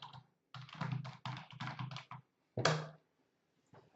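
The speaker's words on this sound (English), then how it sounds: "if I type the following into Matlab" Keys clatter on a computer keyboard in quick bursts of close, crisp typing separated by brief pauses, ending with a firmer tap and a last faint keystroke; no voices.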